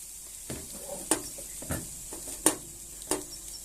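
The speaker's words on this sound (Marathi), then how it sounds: "हे सारखं हलवत राहायचं खाली दाबून द्यायचं नाही" Coconut barfi mixture stirred in a hot pan, with soft scraping strokes at a slow, irregular pace over a faint sizzle, fairly quiet and close.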